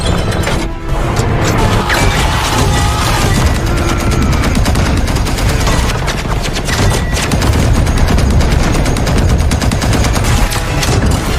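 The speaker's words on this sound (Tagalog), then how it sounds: "Nagkaroon ng matinding palitan ng putok sa pagitan nila at ng eroplano." Loud, continuous bursts of rapid machine-gun fire in an exchange with an aircraft in wartime, with crashing impacts, dense and relentless throughout, no speech.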